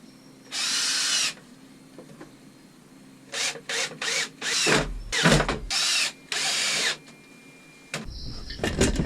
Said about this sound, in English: and now just screwing them together.